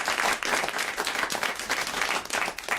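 A studio audience applauds comedian Fabrice Eboué on a French joke show, dense, steady clapping that fills the room throughout without a break.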